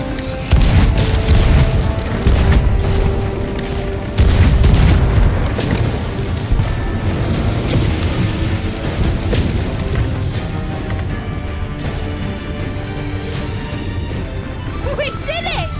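Cannon fire in the Sea of Thieves pirate game: repeated heavy booming blasts and crashing impacts, loudest early, trailing into rumbling debris and game music.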